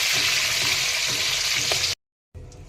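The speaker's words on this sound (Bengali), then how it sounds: "ডিমটাও ভেজে নিচ্ছি, বেশি ভাজবো না" An egg frying in hot oil in a pan, giving a steady close sizzle for about two seconds before a sudden cut to near silence.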